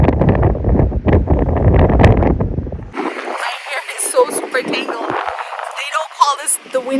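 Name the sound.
strong wind blowing on the Essaouira coast, Morocco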